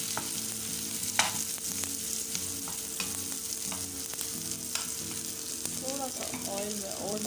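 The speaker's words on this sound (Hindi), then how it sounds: "बस इसको हमें ब्राउन नहीं करना, बस सौते करना है, थोड़ा सा इसको सॉफ्ट करना है।" Bitter gourd sautés in oil in a pan: a steady close sizzle runs throughout, broken by occasional soft stirring scrapes, with a faint background hum.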